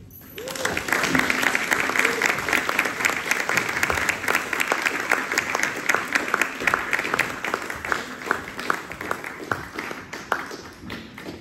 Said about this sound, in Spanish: les pido por favor que recibamos con un muy muy fuerte aplauso al maestro Marco Antonio